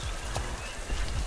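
Horses in the medieval combat video game War of the Roses gallop during a team battle, quick low hoof thuds and clip-clops under a muffled, noisy mix.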